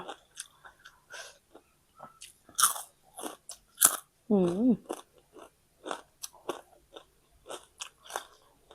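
Crisp bites into crunchy deep-fried white fish served with spicy long-bean salad, several sharp crunches and chewing at close range, with short bursts of talk and mouth noises in between.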